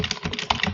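A computer keyboard typed on in quick succession while entering a Linux terminal command on Ubuntu, several close, crisp key clicks in a rapid irregular burst.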